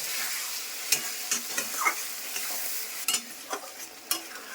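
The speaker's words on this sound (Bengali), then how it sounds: "এখন এটাকে আমি এইভাবেই কষাবো, মশলাটা ঢাকবো না।" Spice paste fries in a pan for a home-cooked lunch, a steady close sizzle broken by several sharp scraping stirs of a spoon against the pan.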